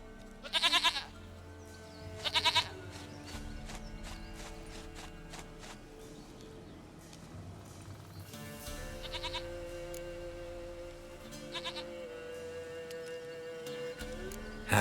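Goat bleats sound in The Witcher 3: two short, loud calls close together early on, then two more a few seconds apart later, over a steady low background with faint hoof clip-clop.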